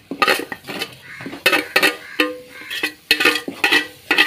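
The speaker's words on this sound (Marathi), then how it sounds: "सोय घाता आनी सोय बरी करून मिक्स करता" A spoon scrapes and clinks against a bowl while salt is mixed into grated coconut for a Goan pinagr, a quick run of close, bright scraping strokes.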